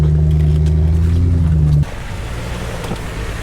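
A Jeep engine climbing an off-road trail drones with a loud, steady low hum, then drops abruptly into a rough, windy rumble.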